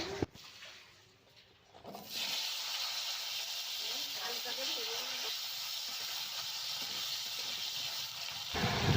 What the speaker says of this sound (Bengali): আলুটা লাল লাল করে ভেজে নেব।